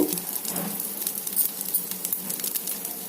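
Cumin seeds, moringa leaves and curry leaves sizzle in hot ghee, a close, steady crackling hiss with small irregular pops throughout and no talking.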